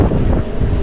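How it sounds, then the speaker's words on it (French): Strong wind batters the microphone in a brief, loud, rumbling gust near a border crossing by bicycle. "Il y a surtout beaucoup trop de vent."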